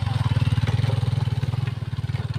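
A motorcycle on a steep mountain road putters close by with a strong, rhythmic low engine pulse that holds steady and then eases slightly near the end.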